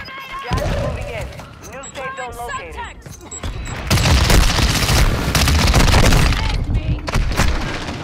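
Bursts of video game gunfire crackle and boom over excited voices, growing louder and denser midway before easing off.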